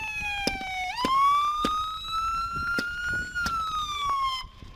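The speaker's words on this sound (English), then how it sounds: "Turn that siren off." A police siren wails up and down in a steady cycle, loud and close, with sharp clicks and thumps punctuating it.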